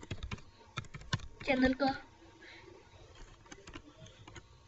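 Someone types a name on a computer keyboard while designing a 2D logo online. A quick run of keyboard clicks comes in bursts, with brief talking partway through.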